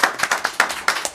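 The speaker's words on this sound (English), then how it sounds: "So please give him a hand of applause." Brief burst of audience applause at a city council meeting, a steady run of close, distinct hand claps for just over a second.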